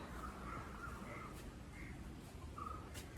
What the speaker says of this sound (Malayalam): കാക്കയാണ്, നമ്മുടെ സാധാ കാക്ക.